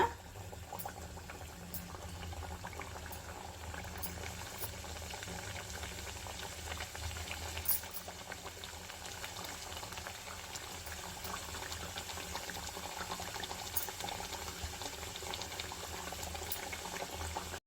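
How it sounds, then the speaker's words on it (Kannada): Khata namkeen pieces deep-frying in hot oil on a high flame, a continuous fizzing, bubbling sizzle with scattered small pops, steady and close throughout. "ಇದನ್ನು ಹೈ ಫ್ಲೇಮಲ್ಲಿ ಚೆನ್ನಾಗಿ ಗೋಲ್ಡನ್ ಬ್ರೌನ್ ಬರೋವರೆಗೂ ನಾವು ಫ್ರೈ ಮಾಡ್ಕೋಬೇಕಾಗತ್ತೆ"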